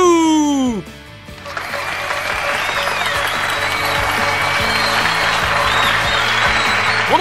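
Applause breaks out after a brief voice in the game Hoshi Ori Yume Mirai, a dense, steady clatter of clapping that carries on evenly to the end.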